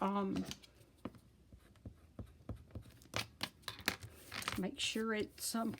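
A paper envelope is folded by hand, with crisp crinkles and sharp creasing taps close to the listener. A voice briefly talks over them at the start and end.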